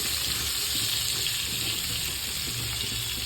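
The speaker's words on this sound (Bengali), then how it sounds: "পেঁয়াজটাকে একটু ভালো করে লাল করে ভেজে নিতে হবে" Onions frying in hot spiced oil for an egg dish, a steady, even hiss and sizzle that holds constant throughout, close and fairly loud with no talk.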